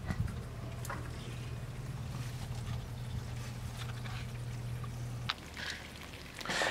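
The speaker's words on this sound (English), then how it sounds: "all I need to do is open the valve on the hose and let the solution run into the garden." Nutrient solution running from an opened hose valve into a hops garden, a soft steady trickle and low hum that cuts out near the end, followed by faint drips and rustling.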